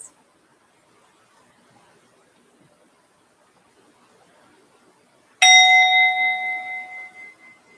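A single bell strikes once after a long near-silence, its bright metallic tone ringing out clearly and decaying slowly over a couple of seconds.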